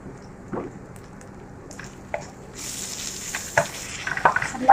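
Bitter gourd frying in hot oil in a pan, being stirred, with a steady close sizzle and a few clinks and scrapes of the spoon that build louder toward the end.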